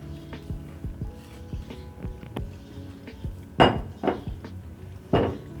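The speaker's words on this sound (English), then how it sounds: "Make sure you scrape the bowl." A utensil scrapes and knocks against a mixing bowl while doughnut dough is cleared out, giving a string of close clinks and taps with a few louder scraping strokes.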